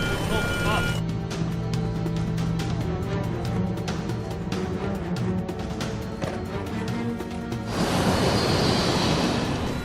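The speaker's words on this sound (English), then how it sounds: "An alarm warns the pilots something is going wrong." A cockpit alarm in an aircraft warning the pilots of trouble: repeated rapid electronic beeps over a dense engine-like roar, cutting off near the end as a broad rushing noise takes over.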